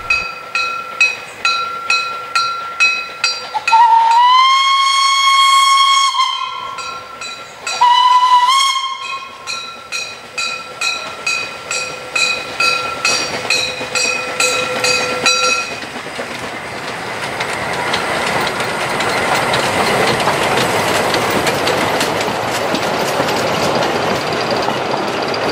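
A narrow-gauge steam train puffs in a steady rhythmic chuff, then sounds two loud blasts of its steam whistle at close range. It rolls past with rising clatter and a hiss of steam.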